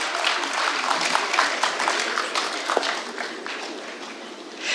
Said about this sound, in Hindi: जोरदार तालियों से एक बार उनका इस्तकबाल किया जाए।